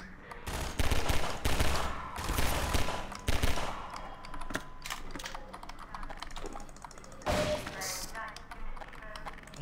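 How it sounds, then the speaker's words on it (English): Pistol fire in Half-Life 2 comes as several sharp, fairly loud shots in quick bursts, mixed with other game sounds and brief clatter, over light talk from a player. "Just gonna use the pistol."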